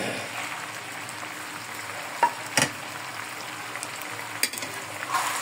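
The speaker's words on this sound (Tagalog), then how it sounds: "I-prito lang uli natin ng konti" Chicken liver fries in a pan for adobo, a soft continuous sizzle with a few sharp crackles and pops over the steady hiss.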